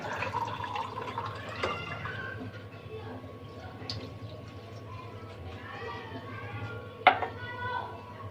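Cold running water splashes and trickles over boiled spaghetti as it is rinsed, a steady tap flow with occasional drips and a sharper splash, a voice talking over it.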